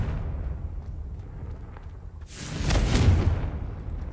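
A Confringo fire spell blast in Hogwarts Legacy: a low rumbling bed, then a loud bursting whoosh that swells near the middle and fades out.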